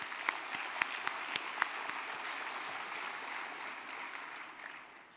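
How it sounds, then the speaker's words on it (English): Audience at a small business awards luncheon applauds steadily for about five seconds, a dense wash of many hands clapping at a moderate distance, with a few sharper claps standing out early on before the applause tapers off at the end. "please join me in applauding Jaden and Amaya and Cool Kids Snow Cones"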